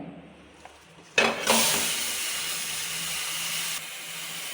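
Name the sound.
flattened anchovy fish placed into a hot pan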